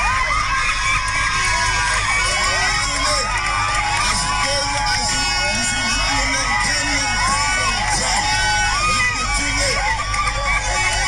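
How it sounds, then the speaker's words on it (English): Studio audience crowd screaming and cheering loudly and continuously, dense shrill shouts and whoops, close and sustained throughout. "I just can't get past the screaming"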